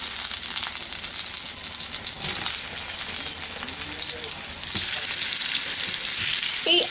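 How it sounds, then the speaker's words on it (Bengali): Salted, turmeric-seasoned potato pieces sizzle loudly and steadily in hot oil in a pan, a dense continuous frying crackle with occasional stirring sounds and no talk. "এখন আমি আলুগুলোকে ভাজার জন্য দিয়ে দিচ্ছি।"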